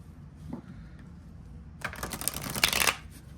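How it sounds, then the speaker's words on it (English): A deck of playing cards being shuffled by hand, a sustained burst of crisp riffling flutter about a second long after a quiet stretch, close and fairly loud. "Let's do a couple shuffles."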